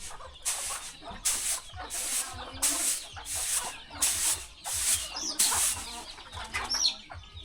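Chickens cluck repeatedly around a remote mountain village after rain, a steady series of close, fairly loud bursts with no one talking.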